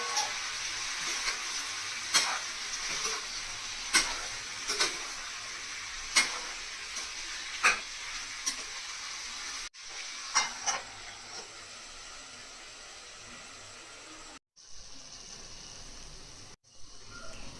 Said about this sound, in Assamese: এতিয়া পিঁয়াজ আৰু বিলাহী যিখিনি কাটি থৈছিলোঁ সেইখিনি মাংসত দিছোঁ